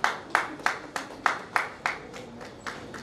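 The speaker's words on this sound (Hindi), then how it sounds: "तालियों में जोर" Scattered handclaps from a small audience welcoming guests at a Churu citizens' association event in Mumbai, roughly ten separate claps in an uneven rhythm, close and moderately loud, with no talk over them.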